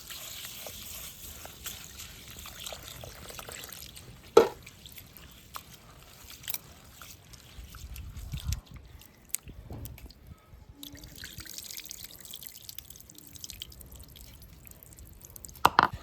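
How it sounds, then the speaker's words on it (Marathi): Black urad dal lentils are washed by hand, soft sloshing, drips and trickles of water with occasional splashes and clinks of the vessel, quiet and close. "आपण आता डाळ स्वच्छ धुवून घ्यायची आहे"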